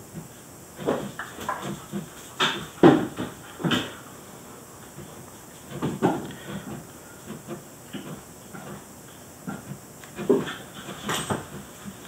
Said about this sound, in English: Can you hear the puppy panting?